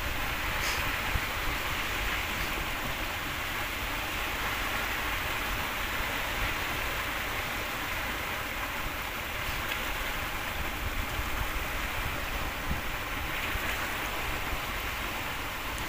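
Steady water washing against a riverbank embankment during wind and rain, a continuous broadband rush with no distinct breaks, heard alone without talk.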